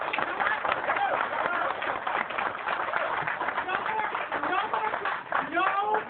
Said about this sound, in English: No more clapping.